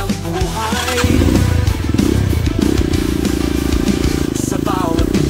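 A motorcycle engine runs close by and steady, with a dense, loud mechanical rumble and some rattling clatter over it, holding its level throughout with no voices.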